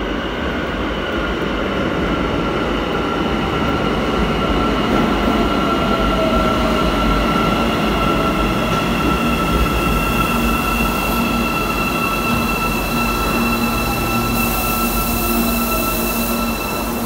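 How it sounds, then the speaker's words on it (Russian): A metro train running along the track, loud and steady from inside or close by, with a constant rumble, a high whining tone and faint wheel squeal over the rails, with no voices. "Поезд идет там."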